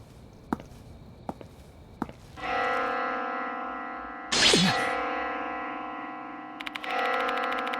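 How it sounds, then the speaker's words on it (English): In the video game Death Mark 2, an eerie bell rings out after three sharp footstep-like knocks, striking twice with long, resonant, slowly fading tones. "Where's this bell sound coming from?"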